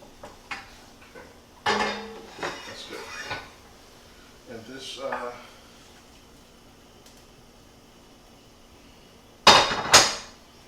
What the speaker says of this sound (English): So I'm just going to give it a little scrape